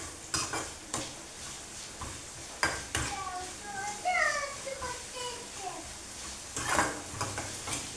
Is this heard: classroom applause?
no